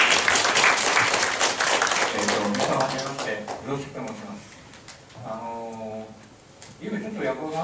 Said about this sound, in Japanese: 改めてもう一度拍手でよろしくお願いします。